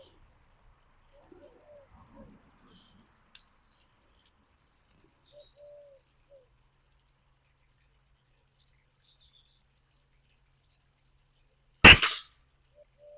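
A single sharp shot from a BSA Lightning CLX air rifle firing a pellet at a target, a loud crack alone in an otherwise quiet outdoor scene with faint birds.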